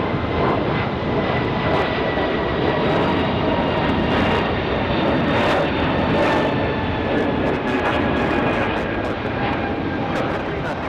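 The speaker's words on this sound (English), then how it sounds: "gonna do a straight up departure for the A220" Loud, sustained jet engine roar from a Delta Airbus A220 departing at night at Raleigh-Durham, with whining engine tones and constant broadband thunder filling the clip.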